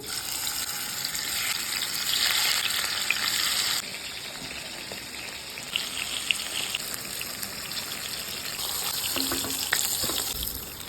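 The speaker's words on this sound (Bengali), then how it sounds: "তেলটা গরম হয়ে গেছে, মাছের পিসগুলো দিয়ে দিচ্ছি।" Large pieces of hilsa fish fry in hot oil with a steady, close sizzle and crackle that rises and eases at moments, heard alone without speech.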